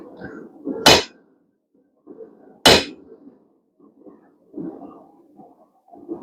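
Two sharp, ringing hammer strikes on a steel chisel walked along a square steel bar at a blacksmith's anvil, spaced a couple of seconds apart, with softer scraping and tapping of the chisel being repositioned between blows.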